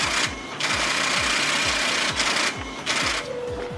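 A high-speed 2,000-lines-per-minute line printer hammers out paper in a loud, rapid mechanical chatter, steady rhythmic pulses repeating throughout with short bursts of paper-feed rush.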